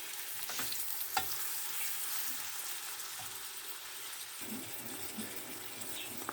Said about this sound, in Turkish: Biraz da böyle soteleyeceğim.